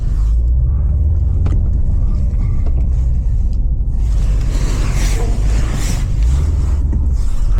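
BMW M550i driving in sport mode, a steady loud low rumble of engine and road noise from inside the car, continuous throughout with no talk.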